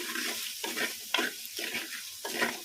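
A spoon stirs salt, turmeric and chili powder through food sizzling in a pan, in repeated scraping strokes roughly every half second over a steady frying hiss, close and with no talking.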